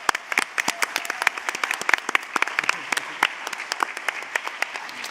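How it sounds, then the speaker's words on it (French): Applause in a church hall for the Lusophone church of Lausanne, sharp individual claps standing out near and loud over a thinner crowd clapping, irregular and lively throughout. "Je vous demande de les applaudir."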